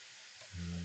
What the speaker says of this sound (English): we're gonna sear these off, right? We're gonna sear them off on all sides